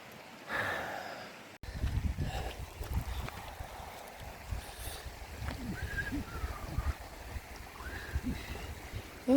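A motorcycle wades across a cold, rocky creek on the way to hot springs in Wyoming, with rushing water and a low engine rumble held steady throughout, close and fairly loud.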